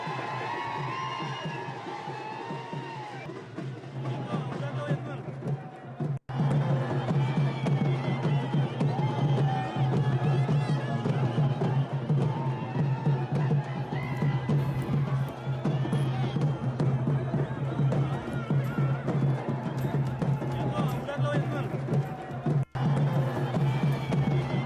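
A crowd celebrating an election victory in Uran, with dense, continuous cheering, shouting and hubbub from many people, loud and close, sustained without a break across the scene.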